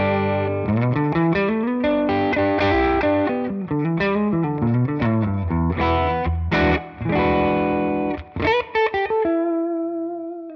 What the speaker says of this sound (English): This is from the Dr. Z X-Ray amp on kind of an edge of breakup style tone.